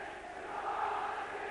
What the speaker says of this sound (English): As the Saints crowd sing to the Hull crowd, you are not singing anymore